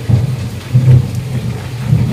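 Heavy thunder rolls through a downpour outside a house with a broken window, low rumbles swelling in several waves over the steady hiss of rain, loud and close, with no voices.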